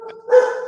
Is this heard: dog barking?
yes